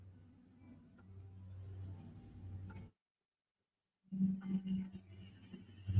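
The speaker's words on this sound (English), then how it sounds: "Ooh, a noisy car? Noisy truck? I wonder if you heard that." A noisy car or truck passes outside with a low engine rumble that swells, cuts out briefly, then returns louder and rougher, heard on its own without talk.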